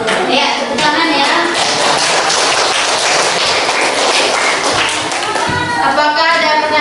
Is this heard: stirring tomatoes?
no